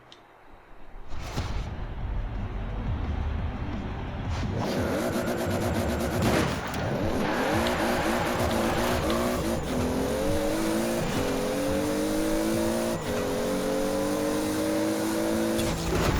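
A Toyota Supra races in Forza Horizon 4, its engine revving up through rising, stepped gear changes after a short burst of tire and impact noise, loud and continuous throughout.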